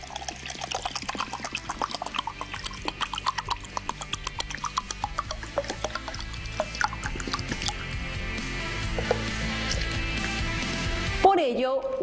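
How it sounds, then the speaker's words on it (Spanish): Water is poured steadily into a one-litre cube container a decimetre on each side, a bubbling, trickling stream that thickens and settles as it fills, ending in a brief clunk. "Si lo llenamos con 1 litro de agua, este queda exactamente cubierto con el total de agua."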